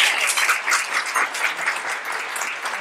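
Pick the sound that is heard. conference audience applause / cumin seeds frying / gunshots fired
conference audience applause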